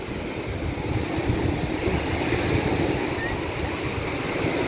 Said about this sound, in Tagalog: Itong lakas ng alon na ito, mas malakas pa talaga pag naka high tide siya.